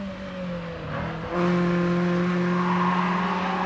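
A Renault Sport Spider Cup Trophy engine, 180 horsepower, revs and rises in pitch, then holds a louder steady drone, close and continuous with no talking.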